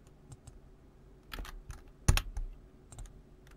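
A computer keyboard being tapped during photo-editing work, with a few scattered soft key presses and one sharper clack near the middle, quiet and close, no speech.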